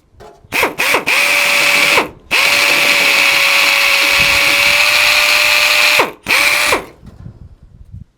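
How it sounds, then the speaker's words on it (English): A power drill bores out rivets on NASCAR radiator parts: a couple of short whirring bursts, then a long steady high-pitched spin of several seconds, then another brief burst, close and loud. "I'm drilling out the rivets that are sticking out and drilling them down"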